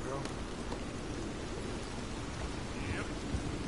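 Steady rain and thunder from the video game Red Dead Redemption 2, a dense continuous downpour with a low rumbling roll beneath, heard throughout at a moderate level.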